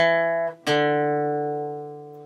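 Two plucked guitar notes on the 4th string, the second struck sharply after a brief gap and left ringing, slowly fading out, from a riff.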